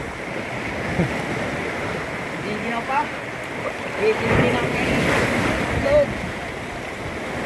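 Waves wash and surge continuously against a windy backdrop, with a few voices talking over the steady roar of the surf.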